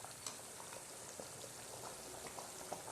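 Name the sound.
tomato kulambu boiling in a pot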